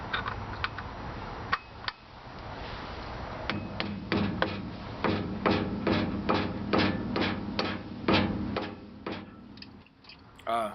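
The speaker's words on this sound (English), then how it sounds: "I patiently just kind of hammered this around to give it a little bit of a chamfer" Metal lip hammered around by hand to form a chamfer during a brake rotor and caliper install, a run of sharp, evenly spaced close strikes, quickening in the middle, against a faint background with no talk.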